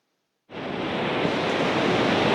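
Atlantic Ocean surf at Myrtle Beach, South Carolina, rushing in as a steady, loud broadband wash that begins abruptly after a short silence and holds without pause.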